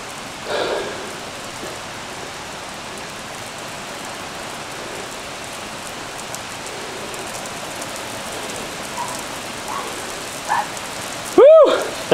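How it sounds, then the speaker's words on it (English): Steady rain hisses evenly throughout, a soft continuous wash of drops, with brief voices and a sharp squeak near the end. "ran around the house in the pouring rain"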